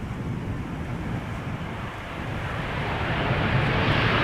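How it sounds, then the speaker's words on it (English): A KLM Boeing 787-10 Dreamliner arrives at Amsterdam Schiphol, heard as a broad, steady jet roar mixed with wind rumble. The roar swells gradually louder toward the end, with no voices present. "This is KLM Flight 604 arriving from LAX"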